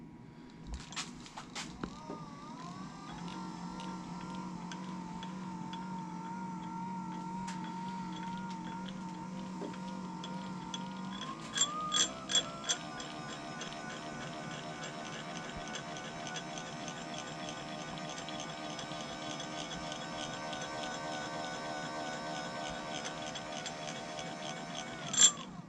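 A benchtop mill/drill machine runs with a steady motor hum and whine. The speed shifts partway through, a few faint clicks and knocks come as it switches over, and then it settles into a faster, busier drone.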